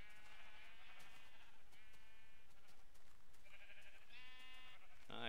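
Sheep in a video game bleating several times, nasal drawn-out calls, fairly clear over a steady low background hum, with no talking.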